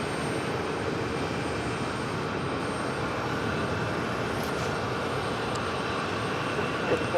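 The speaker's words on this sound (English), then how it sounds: "the Caribbean Airlines, the 737 MAX 8, now pushing it back from gate 7" A Caribbean Airlines Boeing 737 MAX 8 being pushed back from a gate at JFK gives off a steady, even engine and airport rumble with broadband hiss, continuous for the whole stretch at moderate distance.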